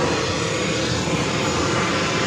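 Airplane engine roar at JFK airport as an aircraft lines up fourth for takeoff, a steady, loud, broadband rumble and whine held without a break, with no voices over it.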